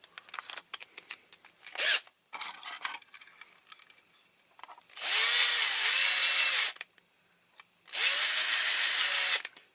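Power drill with a wider bit boring into a Matchbox Kingsize Hatra tractor shovel model, two close, loud sustained bursts of whining drilling separated by a pause, after small clicks and handling taps.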